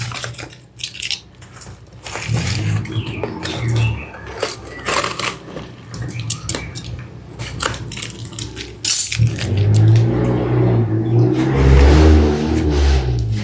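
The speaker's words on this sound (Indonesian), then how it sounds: "suara mobil motor dari luar kedengeran banget" Cars and motorbikes pass outside, heard indoors as a steady, loud rumble of engines and traffic with a heavier vehicle swelling up near the end.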